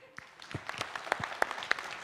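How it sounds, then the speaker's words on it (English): Scattered claps from an audience at a sales summit in Nepal, a thin and fairly faint patter of separate hand claps over a couple of seconds with a little room noise. "I think we can clap for this person."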